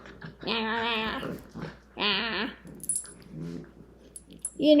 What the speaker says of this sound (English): We got the puppy wars going back here again.